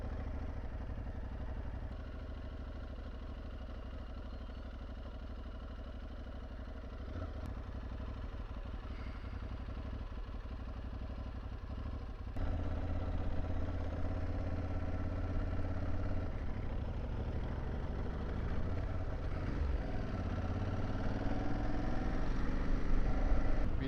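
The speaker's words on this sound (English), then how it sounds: "So I'm in second gear, just almost idling along at 10 miles an hour." An Aprilia Tuareg 660 middleweight motorcycle barely idling along in second gear at about 10 mph, a steady low engine rumble heard from the rider's seat with a soft mechanical clatter, gradually swelling slightly louder toward the end.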